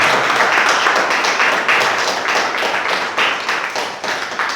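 Church congregation applauding during a sermon, dense crowd clapping that swells in repeated loud bursts and carries on through the whole stretch, close and energetic.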